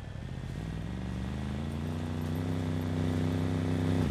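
A quad bike engine in the survival video game SCUM runs and revs up gradually, a buzzing motor whose pitch climbs in steps over a few seconds, close and loud, with no talking.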